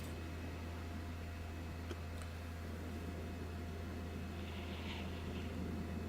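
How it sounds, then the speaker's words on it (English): Airplanes taking off in the airport-management game SimAirport, heard as a steady, even jet-engine roar with a broad hissing rush that holds at a moderate level throughout, with no voices. "sometimes it's just fun sitting here watching the airplanes take off and land"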